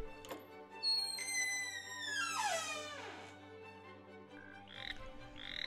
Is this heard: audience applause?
no